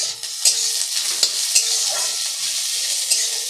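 Ingredients for a spinach dish fry in a pan with a steady, bright, close sizzle, marked by a few soft utensil taps and stirring scrapes, with no voices.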